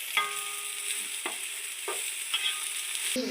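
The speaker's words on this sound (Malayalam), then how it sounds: "അരിഞ്ഞു വെച്ച സവാള ഇട്ട് കൊടുക്കുന്നുണ്ട് കേട്ടോ നമുക്ക് നന്നായിട്ടൊന്ന് വഴക്കിട്ടെടുക്കട്ടെ" Onions sauté with cardamom, cinnamon and cloves for ghee rice, a soft continuous sizzle punctuated by a handful of evenly spaced spoon-scraping strokes, close and alone.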